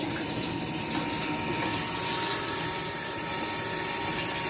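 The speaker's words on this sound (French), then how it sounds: "Vous entendez, l'eau elle coule bien." Water running steadily from a tap, rinsing out and draining into a bucket, a continuous broadband rush at even loudness with no talk.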